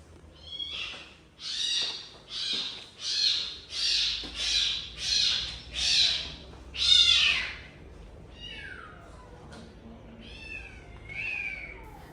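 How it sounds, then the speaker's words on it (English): A kitten with a broken leg cries out in pain during an X-ray: about eight loud, evenly spaced wailing meows, followed by a few fainter, shorter cries. "During the X-ray, the kitten cried out in pain."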